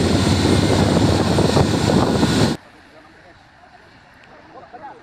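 A Hino trailer truck engine labors up the steep Bukit Kodok hill climb, a loud, dense roar up close that cuts off abruptly halfway, leaving quiet background.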